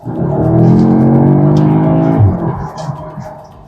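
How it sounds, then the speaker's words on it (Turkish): An Audi S3 kicks down and accelerates hard, its engine climbing in a loud, rising tone close by for about two seconds before the pitch drops as it shifts and fades somewhat toward the end. "Ama böyle biraz gaza basayım, biraz da böyle hani uzasın diyorsanız işte o zaman kick down"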